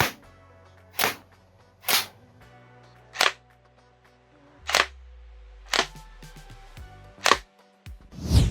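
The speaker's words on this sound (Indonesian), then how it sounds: "perlu setidaknya 2-3 kali tembakan pada titik yang sama untuk peluru tembus target kertas ini" Seven or eight sharp, loud shots from an air rifle fired at a paper target ring out alone at irregular intervals, each a crisp crack with quiet gaps between.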